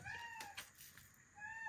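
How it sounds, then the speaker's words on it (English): A domestic cat meows indoors, two quiet drawn-out cries a second apart with a few faint clicks between, fairly soft and distant from the microphone. "that's my cat interrupting as always"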